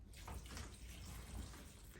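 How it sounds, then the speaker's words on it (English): Water pours steadily from an old water filter pitcher being used as a watering can, a soft continuous splashing stream that stays quiet and even throughout, with no talking. "I've been using this old like water filter pitcher as a, what is that called? Like rain bucket, water bucket, watering can?"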